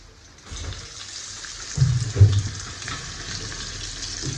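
Onion dropped into hot oil already crackling with curry leaves in a home kitchen, a soft hiss that swells into a louder burst of sizzling, then settles into a steady frying noise.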